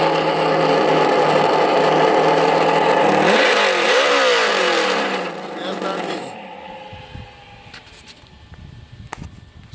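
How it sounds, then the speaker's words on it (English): A Traxxas Yeti RC truck's ESS-One onboard audio system plays a simulated engine under throttle: a loud, steady droning note whose revs rise and fall midway, then cut out, leaving a quieter stretch with a few faint clicks. "Now I'm gonna give it throttle."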